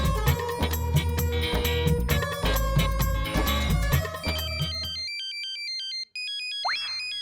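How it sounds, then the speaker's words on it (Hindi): A mobile phone rings in a classroom, its loud synthesized ringtone melody playing for about five seconds before cutting to a thin beeping tone pattern, with no talk over it. "ये किसका मोबाइल बजा?"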